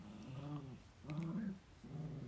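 A dog whines and whimpers in three drawn-out, wavering cries, close by, with short pauses between them and no talking.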